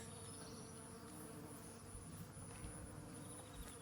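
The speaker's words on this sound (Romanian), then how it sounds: "Păi la asta mă refer, la albinuțe, uite. e când te apropii așa un zumzăit." Bees swarm around blossoming apple and plum trees in a garden, making a steady, dense buzz that fills the whole stretch with no pause.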